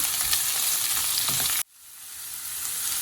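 Onions and green chillies sautéing in an oiled pan, a loud close steady sizzle that cuts off abruptly partway, leaving a quieter hiss that gradually swells back.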